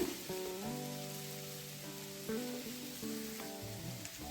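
Okra (ladies finger) sizzles gently in a pan for fried rice, a faint, soft frying hiss broken by a few light knocks as it is stirred, and no one speaks.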